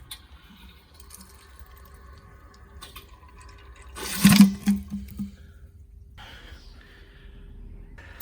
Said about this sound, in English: you have to drain the water out of the tank